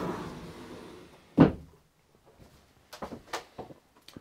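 A cupboard door closes aboard an Outremer 52 sailing catamaran with one soft thud, followed by a few faint knocks and light handling noises in a quiet interior.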